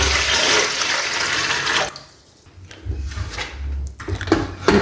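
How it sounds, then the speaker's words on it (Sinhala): Water splashes and pours into a container at home, a loud gushing stream that breaks off and then resumes in short uneven bursts. "මේකේ යටට අඟලක් විතර උසට වතුර දා ගන්න ඕනේ."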